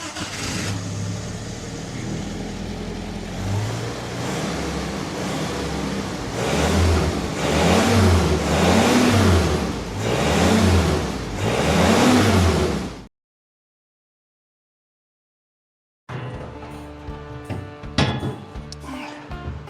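A 1948 Willys CJ-2A jeep engine, primed with a manually filled fuel pump, cranks and then runs with a rough, rhythmically surging roar for about thirteen seconds, then cuts to silence before quieter mechanical clanks follow.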